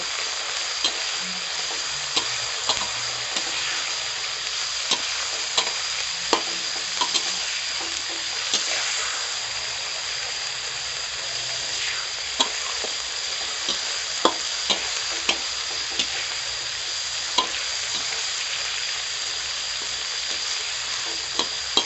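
Steady sizzle of cicadas frying in a pot, with scattered clicks and pops and occasional stirring scrapes, continuous and close.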